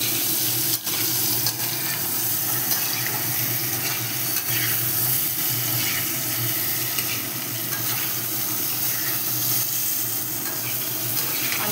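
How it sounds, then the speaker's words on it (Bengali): Boiled potatoes and eggs fry lightly in oil for chicken biryani, giving a loud, dense, unbroken sizzle close up with occasional stirring scrapes. "একদমই হালকা করে একটু ভেজে নেবেন"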